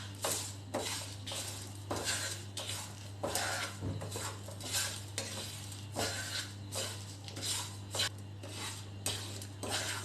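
A spoon scrapes and clinks against a pan while stirring hing, chilli powder and black salt together for kacchi dabeli masala, in repeated close rhythmic strokes with a faint sizzle and a steady low hum behind.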